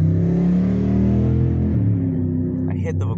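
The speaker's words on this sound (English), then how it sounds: "the loudest motorcycle I've ever heard passed by" Very loud motorcycle passing nearby, a heavy rumbling engine roar that holds strong and then fades away over a few seconds as it moves off.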